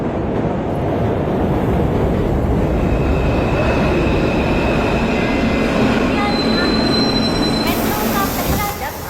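A metro train runs with a continuous heavy rumble and a high metallic wheel squeal rising over it, close and loud from start to finish, with no clear speech.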